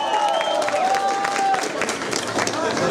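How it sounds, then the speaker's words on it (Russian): Audience applause for a contestant at a show in a cafe, a busy patter of clapping mixed with cheering and a tonal whistle or voice, with people talking underneath. "Аплодисменты за этого участника,"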